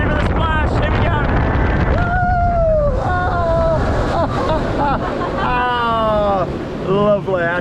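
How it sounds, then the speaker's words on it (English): Typhoon roller coaster at The Land of Legends rushing through a water splash, a loud, steady roaring whoosh of wind and spray with riders whooping and shouting throughout. "Get ready for the splash, here we go."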